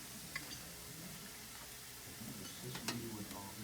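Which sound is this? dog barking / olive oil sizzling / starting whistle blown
olive oil sizzling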